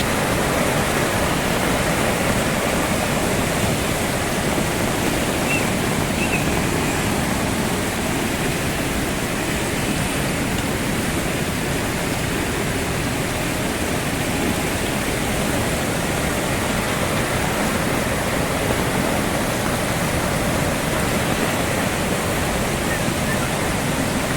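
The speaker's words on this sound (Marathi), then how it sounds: "नदीला आमच्या पुराला आहे" Loud, continuous roar of rushing water, a village river in the Konkan swollen by torrential rain and flowing over stones, churning steadily with no pauses throughout.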